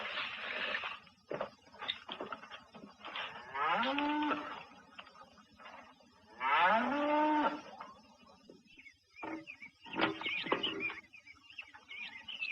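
Several loud, drawn-out cow moos on a farm, coming in separate bursts with short pauses between them, close by and with no talking over them.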